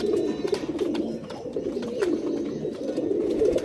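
Pigeons in a home loft coo continuously in low, overlapping rolling calls, close and fairly loud, with a few brief sharper sounds mixed in.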